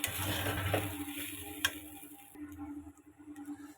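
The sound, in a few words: stirring flattened rice (chira) biryani after adding salt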